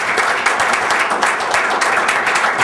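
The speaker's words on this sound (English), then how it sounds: "I want to start off by giving a round of applause to our folks up here that have helped us." Steady, dense applause from an agricultural education gathering fills the whole stretch, loud and close with no pauses.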